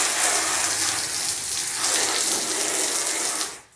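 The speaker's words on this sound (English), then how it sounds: "Rinse it off. It's looking clear." Water is rinsed steadily over a polished car headlight, a close, continuous hiss and splash that runs for several seconds and then cuts off abruptly near the end.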